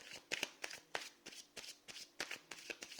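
Tarot cards are shuffled by hand in quick, crisp riffling bursts, close and fairly soft, repeating irregularly throughout with no voices.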